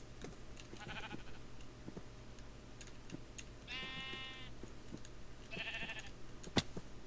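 Sheep in the Minecraft video game bleat three times in short wavering cries, set against soft clicking and a low steady background hum.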